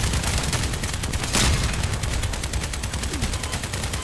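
Rapid, continuous automatic gunfire fills a video game match, dense and loud with rhythmic repeated shots throughout and no pause.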